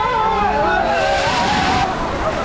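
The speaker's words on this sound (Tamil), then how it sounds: "பக்கெட் ஃபுல்லான உடனே கீழே தண்ணி கொட்ட போகுது இப்போது." Water pours and sloshes down from a full tipping bucket at the Wonderla theme park water area, a steady, loud rushing splash against a background of crowd babble.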